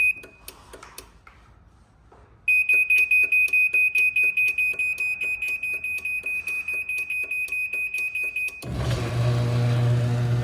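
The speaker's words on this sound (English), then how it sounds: "This will be a series of beeps and blinks." A Liftmaster garage door opener gives a rapid series of sharp electronic beeps, repeating steadily for several seconds alongside a motor hum while setting its force, then a loud mechanical rumble takes over.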